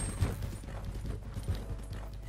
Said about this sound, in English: There shouldn't be horses down here.